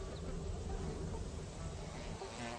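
Flies buzzing around a foul-smelling stapelia carrion flower, a steady close insect drone that persists throughout, alone without speech.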